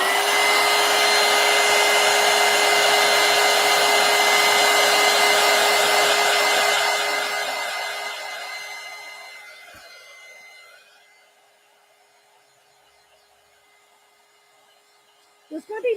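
A hair dryer blows steadily on collage pages, loud and close with a constant whine, then winds down and cuts off, followed by near silence and a brief handling knock at the end.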